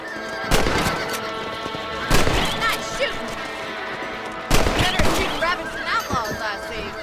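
Rifle shots in the Western video game Red Dead Redemption, three sharp cracks spaced a couple of seconds apart, each followed by a ringing echo and game ambience.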